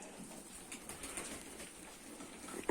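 Soft flutters and faint rustling from a black pigeon close by, quiet and intermittent against a hushed room.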